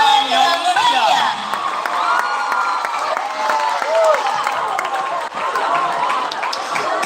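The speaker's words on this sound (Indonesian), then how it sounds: "Beri tepuk tangan yang meriah." A loud, lively crowd at a high school event opening in Palembang cheers, whoops and applauds together, with children's shouts and a musical tone rising through the continuous roar.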